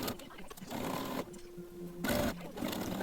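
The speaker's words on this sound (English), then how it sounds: "the sewing machine is trying to come over and chew on my thread" A home sewing machine stitches an elastic waistband, running in bursts of rapid mechanical whirring with short gaps between runs. It sounds close and moderately loud, with a thin steady hum beneath it.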